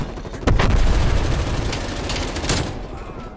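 Rapid sustained automatic fire from a Stoner machine gun in Call of Duty: Cold War, a loud continuous burst with a short pause and another surge near the end.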